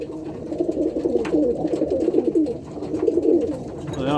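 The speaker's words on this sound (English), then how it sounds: "These are mainly old cockbirds." Old cock pigeons in a loft give off continuous low, burbling coos, close and fairly loud. The cooing overlaps into a busy murmur, with a brief higher sound near the end.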